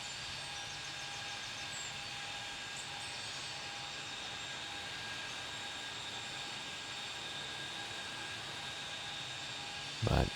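Jet aircraft taxiing at an airport in Brazil in the Tower Simulator 3 video game make a steady, faint engine whine and hum, droning continuously with a brief louder burst at the very end.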